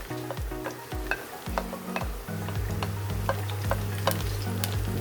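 Garlic, green chilies, beans and onion fry together for soya fried rice, a busy close sizzle with sharp spatula taps and a rhythmic run of scraping, squeaking stirring strokes throughout.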